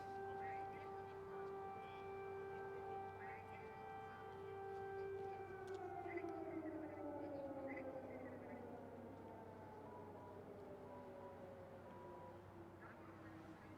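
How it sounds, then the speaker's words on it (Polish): A wailing air raid siren over Independence Square in Kyiv drones steadily with a long, sliding pitch, distant but loud, over constant background rumble. "To jest syrena przeciwlotnicza."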